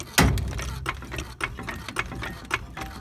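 A jack ratchets under a 1969 Plymouth Roadrunner as it is raised for trunk floor and frame rail repair, giving a close, steady run of uneven mechanical clicks and clunks after a sharp opening knock.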